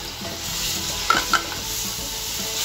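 Ginger garlic paste for chicken biryani fries in oil with a soft steady sizzle while a spoon stirs and scrapes the pan, giving two quick sharper clinks partway through.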